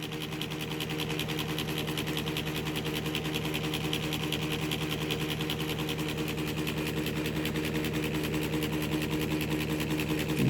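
A Flynn motor and generator combination runs steadily at close range, a constant droning hum with a buzzing, sewing-machine-like whir and strong low tonal bands that hold unchanged throughout.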